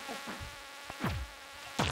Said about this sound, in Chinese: 好，蚊子来了。